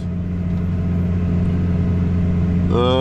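A tractor engine pulls a plough through an old, hard lucerne field in 11th gear at about 8 km/h, a steady, low rumbling drone held at constant load, with a voice starting to speak over it near the end.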